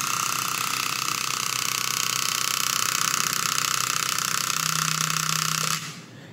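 An electric vibrator driving a string in a Melde's law physics lab setup, giving a steady loud buzzing hum that runs unbroken for about six seconds before cutting off abruptly.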